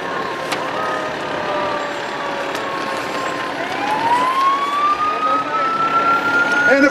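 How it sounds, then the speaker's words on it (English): Wells fire trucks sound their sirens in the 2015 Wells, Maine Christmas parade: a wailing tone climbs and sweeps upward, growing louder as the trucks approach, with short horn-like blasts near the start. "And of course we have the Wells fire trucks."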